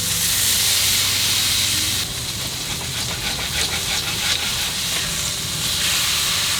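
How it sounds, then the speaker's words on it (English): A smash burger sizzles on a grill's griddle grate, a loud continuous hiss of frying fat and steam filling the whole stretch with no talk. "Look how good they sizzle on that griddle grate."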